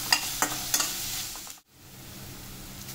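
Onion frying with salt in a pan, a few sharp stirring clinks over a bright sizzle that briefly cuts out, then resumes as a softer steady fry, no speech.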